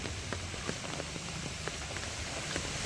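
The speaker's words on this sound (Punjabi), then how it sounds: "ਤੇਜ਼ ਬਰਸਾਤ ਹੋ ਰਹੀ ਹੈ" Heavy rain pouring over the streets of Tapa town, a dense, even hiss of falling water with scattered droplet taps, steady and unbroken throughout.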